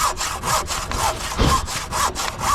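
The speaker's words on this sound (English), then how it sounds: "You can use your jigsaw for this" Jigsaw cutting roof timber for a cut roof, a loud, steady rasping saw stroke that runs continuously with rhythmic pulses, close up and alone.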